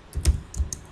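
Typing on a computer keyboard, with three or four quick, close key clicks within a second, clear and alone.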